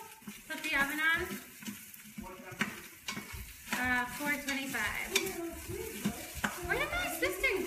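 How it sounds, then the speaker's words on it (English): Peppers and onions sauté in a pan, a soft, steady sizzle with occasional utensil taps running beneath a voice talking almost continuously nearby. "So I'm sauteing the peppers and onions."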